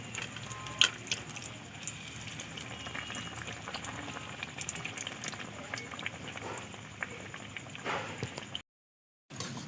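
A fish roe chop sizzles as it fries in oil, giving a steady, close bubbling hiss that runs evenly throughout and cuts out briefly near the end, with no talk over it.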